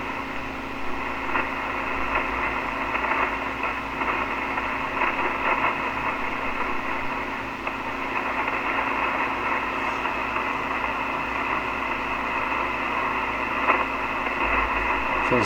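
An FT-101 ham radio receiver with some faults, tuned to the 40 meter band, gives off continuous hiss and static with faint, garbled signals underneath, holding a steady moderate level throughout.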